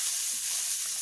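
Butter sizzling in a hot pan taken off the heat, a steady bright hiss of frying with no other sounds, fairly quiet and continuous.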